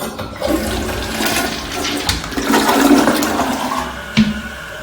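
An American Standard toilet in a hotel bathroom flushes with a steady rushing swirl of water that swells midway and drains off, close and clear with no talking.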